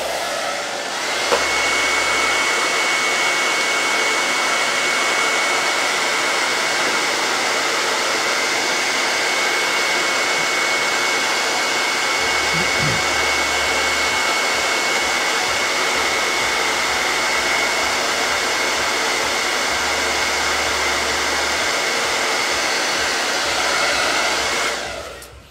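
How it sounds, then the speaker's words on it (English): A hair dryer blows steadily to dry ink on a T-shirt, a loud, continuous whooshing whine with a faint high tone that holds unbroken for about twenty-five seconds before switching off. "I'm gonna hair dry it just a little bit first"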